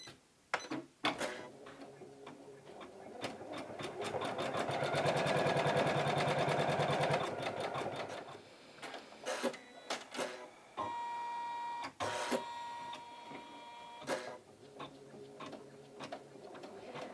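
Computerized embroidery machine stitching a placement line for an appliqué flower, a steady rapid mechanical chatter swelling in the middle, then lighter intermittent clicks and thumps of stitching with short pauses.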